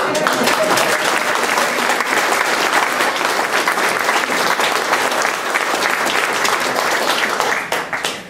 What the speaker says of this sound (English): round of applause for Haley.